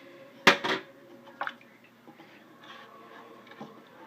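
Julekake dough with ground cardamom is stirred in a bowl, sounding as a sharp utensil clack against the bowl, then sparse soft scrapes and taps at close range.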